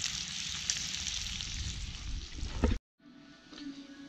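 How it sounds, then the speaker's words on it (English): Bacon sizzles and crackles loudly in a cast iron pan, a dense steady hiss that stops abruptly near the end, then gives way to quieter kitchen clatter. "That's a lot of bacon. A lot of bacon. Bacon's cooking."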